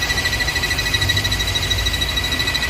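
A Mercedes-Benz engine with a faulty PCV valve gives a steady, high, thin whistle over a constant low idle rumble, continuous and fairly loud with no talking.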